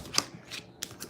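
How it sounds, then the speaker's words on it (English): Tarot cards shuffled by hand during a live love reading, a brief soft riffle of papery flutters and taps, close and quiet, with no talk. "Let's see, one more shuffle."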